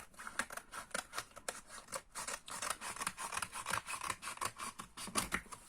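Scissors cut through paper for an album cover, giving a run of close, quiet snipping and rasping strokes in a steady rhythm with no talk.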